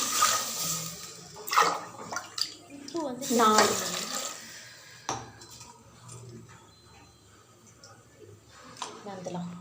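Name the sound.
water poured from a tumbler into a cooking pot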